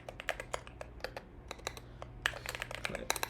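A computer keyboard clatters under steady typing, crisp rapid keystrokes in irregular bursts that speed up toward the end, close and fairly quiet, with no voices.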